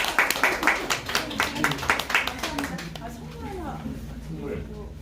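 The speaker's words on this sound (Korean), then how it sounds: "박수 한번 보내주세요." A small audience claps in a quick rhythmic pattern, the individual hand claps distinct and close, then the clapping fades as voices take over.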